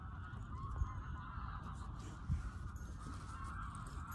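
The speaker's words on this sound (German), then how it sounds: "Und da hört sich an, als wären da ganze Gänsescharen" Geese honk faintly in the distance, giving a few scattered calls over a steady outdoor hum with two brief thumps.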